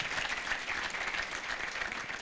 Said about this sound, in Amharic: አጨብጭቡልኝ ለጌታ ክብር።